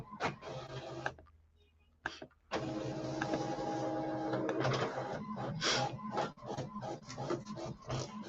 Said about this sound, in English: so that's printing